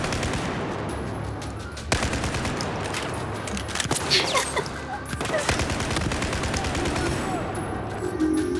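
Battlefield 4 campaign combat: near-continuous machine-gun and rifle fire rattles throughout, with sharp louder cracks standing out over a dense, busy battle backdrop.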